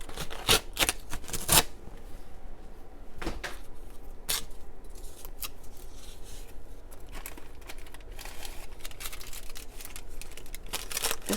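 Cardboard packaging is torn by hand, giving several sharp, crackling rips near the start and then a steady papery rustle and crinkling that continues throughout, close and moderately loud.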